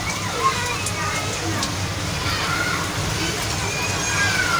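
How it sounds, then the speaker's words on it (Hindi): Heavy rain pours at night in Kasur, a steady dense hiss of falling water and splashing on surfaces that stays loud and continuous throughout, with no voices in this stretch. "बहुत ही तेज़ बारिश आ रही है भाई साहब"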